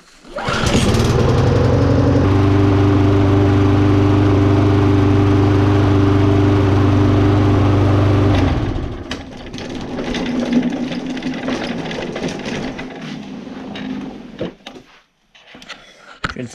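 A small lawn mower engine, unstarted for a month and with oil in its fuel tank, sputters to life and runs loud and uneven for several seconds, then cuts out, leaving quieter rattling and handling noises.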